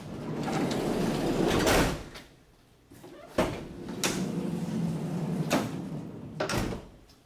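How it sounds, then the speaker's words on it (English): A Mercedes Sprinter van's sliding door, recently repaired after sticking, rolls along its track all the way back, with several distinct rolling runs and sharp thumps of the door reaching its stops, close by and loud. "The door is now sliding all the way to the back of the vehicle."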